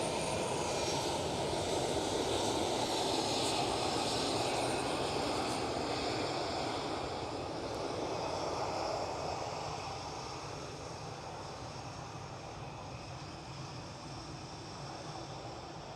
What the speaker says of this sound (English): And this is Air France with an A320.